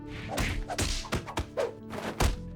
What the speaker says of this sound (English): the sound effects of people trading blows